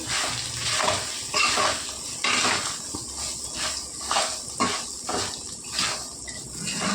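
A spoon mixes cooked, salted rice with seasoning in a pan for lemon pulihora, making repeated soft scraping strokes in a steady rhythm over a faint background sizzle. No one speaks.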